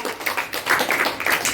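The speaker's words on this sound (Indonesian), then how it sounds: "Oke, boleh kembali tepuk tangan untuk Rahayu" An audience in a classroom-style session claps for a participant, a short burst of scattered, brisk hand claps close by, with no talking over it.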